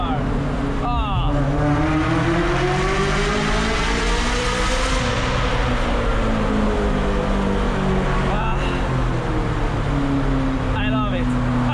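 A Ferrari F355 with straight pipes screams through a tunnel, its high-revving engine rising and falling in pitch with sharp crackling shifts, loud and echoing close up for the whole stretch.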